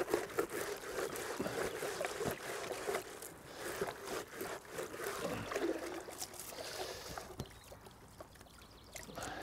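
Water splashes and trickles as a pond biofilter clogged with gunk is rinsed, a close, uneven run of pouring and dripping with a few sharp knocks.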